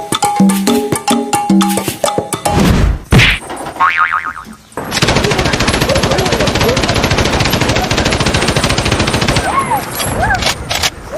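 A toy gun rattles off rapid bursts of mechanical fire during a street monkey show, preceded by springy boing noises and music, loud and continuous with a voice talking over part of it.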